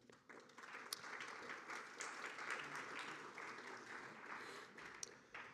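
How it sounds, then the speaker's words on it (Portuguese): An audience applauds at a legal forum with steady, dense clapping that lasts the whole stretch, heard at a moderate distance in a large hall. "Uma salva de palmas."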